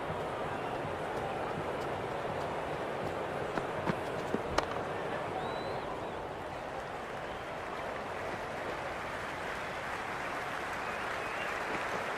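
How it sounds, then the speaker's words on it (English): Crowd applauding in a stadium during a cricket match in the Cricket 26 video game, a dense steady wash of clapping and crowd noise that holds at an even level throughout. "It's evident and ever so audible that the crowd is at near bursting point at today's play."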